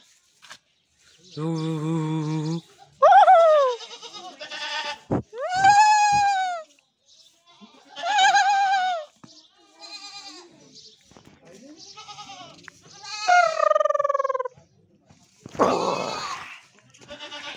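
Goats, some shut in a dark shed, bleat again and again in loud, wavering calls at close range, separated by short quiet gaps.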